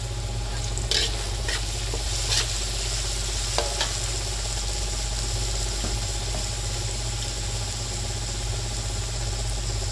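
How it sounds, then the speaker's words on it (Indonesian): Carrots and spices being stirred in a hot pan for mie jawa, a continuous sizzle with occasional sharp scrapes and clinks of the utensil, steady and close, with a low constant hum underneath. "Saya masukkan wortelnya. Kita aduk-aduk bersama bumbunya ya"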